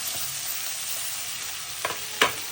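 Mashed eggplant bharit hits frying chillies and garlic in a pan, giving a steady loud sizzle punctuated by two quick spoon scrapes near the end.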